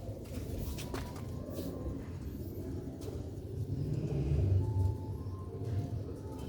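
Sialkoti black-faced rooftop pigeons coo softly, a few low murmuring coos rising mid-way through a steady outdoor background hum.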